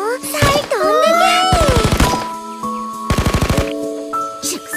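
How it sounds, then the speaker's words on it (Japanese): Rapid gunfire barrages in the game Blue Archive, two bursts of fast evenly spaced shots, loud and close, alongside whooshing effects and sung or spoken game voices. "全弾発射"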